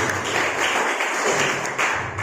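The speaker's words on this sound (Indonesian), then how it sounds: "Kasih tepuk tangan buat Tuhan yang luar biasa" A church congregation claps during a sermon, a steady dense wash of applause at moderate volume running throughout with no talk over it.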